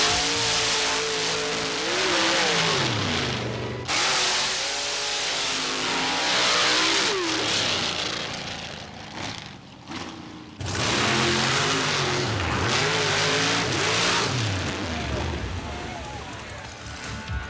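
Nitrous-burning race engines, including a 615 cubic inch rail motor and a fleet of Corvettes, rev hard and loud at a monster truck and mud race, with engine pitch repeatedly climbing and falling under a commentator's voice.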